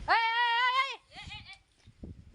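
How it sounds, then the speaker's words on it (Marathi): A goat out grazing on grass gives one loud, clear, wavering bleat close by, then a second shorter, quieter bleat, followed by faint background noise. "बकरी बघा काय खायला लागलं"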